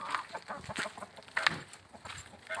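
Farm chickens cluck faintly in short, scattered calls for under three seconds, sounding close but quiet.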